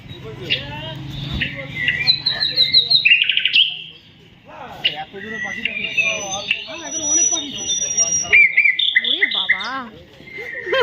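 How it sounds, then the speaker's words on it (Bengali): Several birds chirp and tweet in quick bursts close by, while people talk in between. "পাখি ডাকছে"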